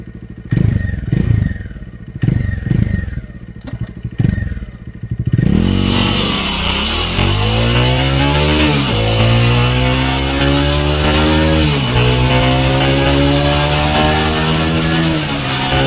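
Bajaj Dominar 400 motorcycle engine on a highway, heard after a few seconds of choppy sound. It rises through the gears with rising engine tones, then holds a loud steady drone at cruising speed, close up.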